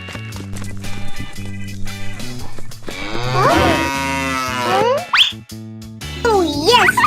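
A cow lets out several wavering, loud moos over a musical backing with a steady beat and a few cartoonish boings.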